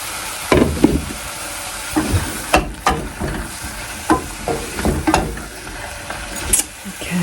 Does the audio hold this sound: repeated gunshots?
no